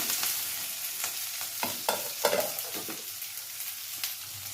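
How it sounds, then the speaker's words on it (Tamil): Chopped onions and green chillies sautéing in a pan for a drumstick gravy, a soft sizzle broken by repeated scraping stirs of a spatula, with no talking. "வெங்காயம் நல்லா செவர வதங்கிடணும்"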